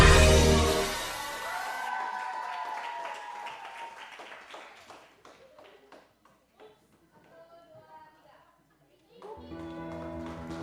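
An audience claps after a Christmas celebration performance. A burst of applause is loudest at the start, then thins into scattered claps and taps as voices speak over it.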